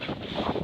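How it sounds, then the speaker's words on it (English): Steady gusting wind rushing across the microphone beside the Sèvre Niortaise river in France, a broad rumbling whoosh that fills the brief moment with no voices. "it's very windy, as I think you can hear"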